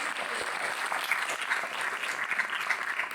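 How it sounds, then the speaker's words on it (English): Audience applause from students at a STEM aviation career talk, a moderate, even wash of clapping that holds steady throughout without voices. "we gotta give it a round of applause when you show up for yourselves"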